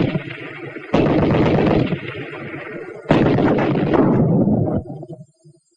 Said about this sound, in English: It doesn't have to be a tank for the anti-tank grenade to go to work.